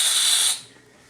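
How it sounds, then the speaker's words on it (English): Pressure vents from a container of dry ice in a short, loud, steady hiss lasting about half a second, then cuts off abruptly and leaves only faint background noise. "Now I'm going to let the pressure off when it gets to 100."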